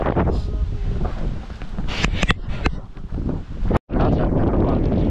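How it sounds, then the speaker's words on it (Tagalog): Strong wind buffets the microphone on a beach at night, roaring and gusting unevenly with rustling and brief clatters, close and loud, and a voice speaks briefly over it. "Malakas po ang hangin eh"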